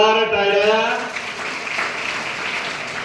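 Applause from a school gathering honoring a principal, a burst of clapping that rises under a sustained voice and then thins to a steady patter, moderately loud and nearby.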